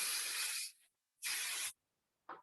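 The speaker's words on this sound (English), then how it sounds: "you want to make sure that you're spraying and smoothing" Hairspray from an aerosol can, applied while smoothing hair into an updo, comes out in two long, steady hissing bursts and then a short third one, each with quiet gaps between, close and clear.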